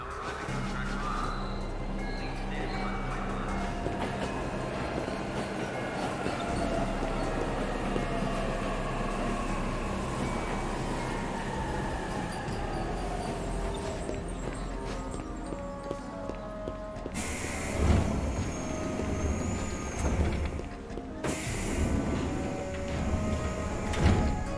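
A train pulling away from a station in the video game 13 Sentinels: Aegis Rim: steady rumbling and rhythmic clatter under ambient noise, rising in two louder swells toward the end.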